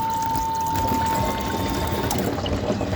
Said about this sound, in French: on entend l'eau qui arrive dans le bidon d'eau sale juste là